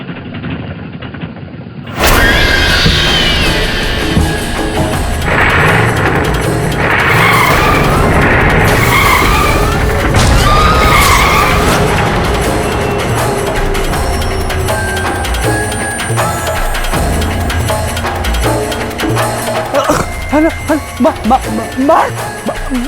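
A car skids hard with screeching tires, then roars off at speed, loud and close for about twenty seconds with engine and mechanical clatter, fading into rattling bursts near the end, with voices faintly beneath.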